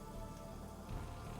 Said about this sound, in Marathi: पावसाच्या धारा आता सपासप तिच्या चेहऱ्यावर बसत होत्या.